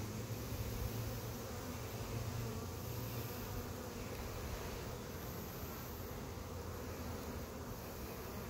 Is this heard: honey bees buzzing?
yes